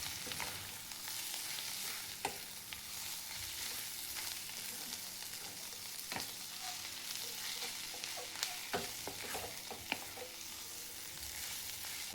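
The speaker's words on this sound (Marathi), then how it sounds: "शेंग, मिरच्या टाकायच्या आहेत. तेलामध्ये भाजून घ्यायचा आहे." Cluster beans and green chillies roasting in oil for a spicy thecha, a soft steady sizzle and crackle with scattered pops and occasional stirring clicks, close but fairly quiet, no talking.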